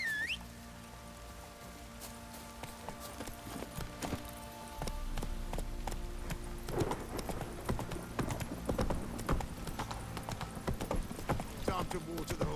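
Horse hooves clip-clop on the ground in The Witcher 3, a slow irregular walking rhythm that grows busier and closer partway through, with game ambience and sharp clatters over it.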